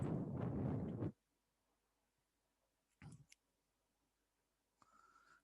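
A computer mouse clicks twice on a trading platform, the clicks brief, soft and widely spaced in a quiet room after an opening burst of noise.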